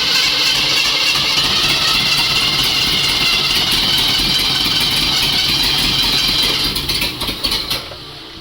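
A 1972 AMC Ambassador engine runs steadily at idle, close and loud with a rough, even rumble, then fades with a few uneven throttle blips near the end.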